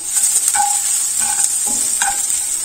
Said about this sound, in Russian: в это же масло, где жарились креветочки, выкладываем чеснок. И обжариваем.